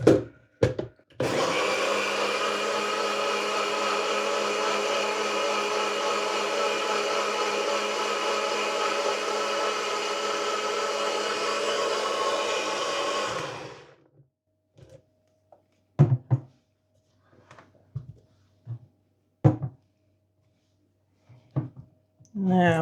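A countertop blender whizzes mango and blackberry in one steady, loud run of about twelve seconds, then cuts off; a few scattered clicks and knocks of handling follow in near silence.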